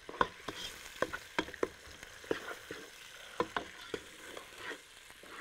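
Sliced onion frying in a pan with a small spoon of sugar to caramelize it, a steady sizzle broken by repeated sharp scraping and stirring knocks, close and alone.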